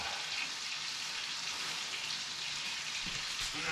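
Potatoes and onions with salt and pepper frying in a big hot pan: a steady, dense, crackling sizzle close by, continuous throughout with no talking.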